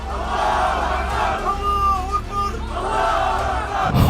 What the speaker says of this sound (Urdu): بنی اسرائیل کا نعرہ بلند ہوا